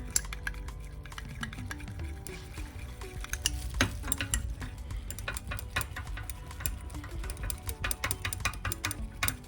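A faint, close hand-mixing sound of aloe vera gel, honey and activated charcoal being blended into a face mask: soft scraping and tapping of a utensil in a small bowl, with no talk over it.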